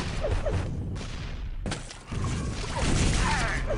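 Rocket launcher blasts and explosive hits in a Quake duel on the House of Decay map, a dense run of loud impacts and crashes with a brief dip midway, then continuous close-up chaotic action.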